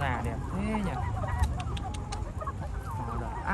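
Chickens squawking and clucking in a coop at night, a dense, close flock calling continuously with honking, goose-like cries over a steady background murmur, with a voice faintly in the mix.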